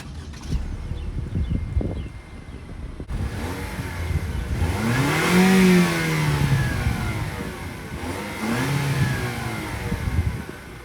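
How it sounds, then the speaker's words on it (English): A 2019 Lexus NX300 F Sport engine cranks and catches, then revs up and down in a couple of loud rising and falling bursts, close by, with no talking. "you guys want to hear what this car sounds like starting up"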